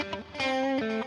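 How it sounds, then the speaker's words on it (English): Electric guitar played through an Axe-FX III amp with the gain raised and an input boost, giving a thick distorted tone. Sustained chords ring loud and close across the whole second, with no talk over them. "let's whack up the gain a little bit. Let's put up an input boost on this."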